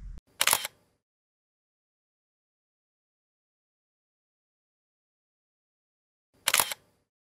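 Two crisp camera shutter clicks from a single-lens reflex camera photographing a landscape, close and isolated, separated by about six seconds of silence.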